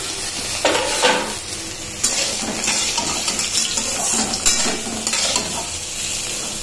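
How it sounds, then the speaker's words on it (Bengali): Potatoes fry in a pan at home, a loud steady sizzle with scattered scrapes and clatters of stirring, close up and without talk. "এই আলু ভাজা হচ্ছে"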